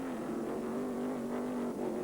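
A Saleen GTS race car chased by the number 3 Corvette in a 2001 ALMS race roars past in a steady, loud engine drone with a sustained pitch, close and continuous with no talking.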